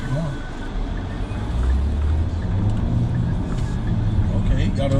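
A Kia K5 GT Line sedan accelerates through a turn, its low engine and road rumble droning steadily from inside the cabin under a person talking.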